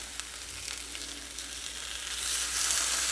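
Homemade breakfast sausages frying in a pan, a steady soft sizzle and crackle that swells a little louder near the end, heard alone without any voices.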